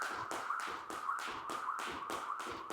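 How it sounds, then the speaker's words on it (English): A jump rope slaps the ground in a steady, even rhythm, about three taps per second, each one a crisp close smack with a faint whir between. "you should be able to hear the jump rope hitting the ground with each rotation"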